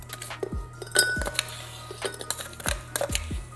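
A regular spoon stirs ice in a cocktail glass, giving a string of bright, irregular clinks and chimes, close and fairly quiet with no talk.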